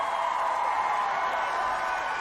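Rugby crowd at a women's international between the Black Ferns and Canada makes a steady, distant roar of cheering that holds evenly throughout, with no distinct claps or calls standing out.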